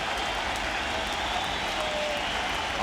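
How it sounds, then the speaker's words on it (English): Baseball fans at Shea Stadium applaud the Mets in the eighth inning of a 2000 NLCS game, a faint, steady wash of crowd clapping heard at a distance. "applauding these Mets who lead 3-1"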